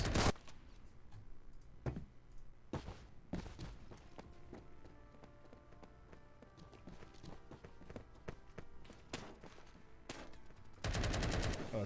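Shotgun blasts in the Roblox game Island Royale, a few loud, sharp bursts spaced irregularly over a clicking, busy background, with a final heavier burst of fire near the end.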